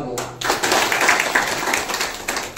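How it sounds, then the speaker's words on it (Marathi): An audience claps together at a gathering, a dense wash of many hands that starts abruptly, stays loud and fairly even, then thins toward the end. "सर्वांनी टाळ्या वाजवा."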